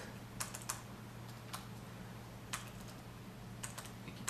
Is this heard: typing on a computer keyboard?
yes